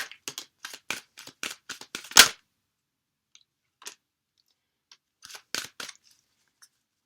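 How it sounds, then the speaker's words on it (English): Tarot cards being shuffled by hand during a reading: a quick run of crisp, papery riffling bursts, then a short pause and a few scattered light ticks and flicks, close and alone with no talk. "One last shuffle."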